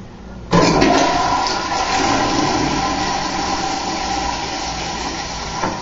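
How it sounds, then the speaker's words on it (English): A toilet flush kicks in abruptly with a loud gush of rushing water, then swirls and drains steadily for several seconds as it carries away a red plastic party cup, heard close up with no talking. "All right, here we go with the flush."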